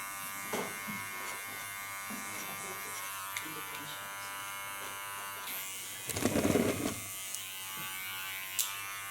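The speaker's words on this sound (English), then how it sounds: "Watch at the angle of my clipper." Electric hair clipper cutting a man's hair, a steady faint motor buzz held throughout with a short louder burst of contact noise midway.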